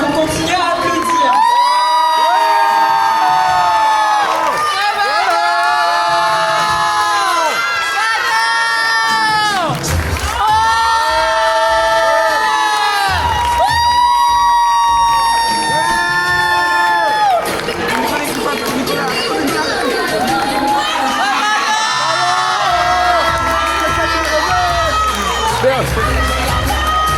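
Loud crowd cheering and shouting goes on throughout with high excited voices and whoops, while music or amplified sound plays over it in an audience setting.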